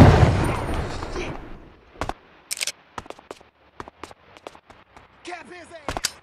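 Gunshots ring out in the game 25 To Life, a string of sharp separate cracks with short gaps between them after a loud opening rumble, with voices shouting among the shots.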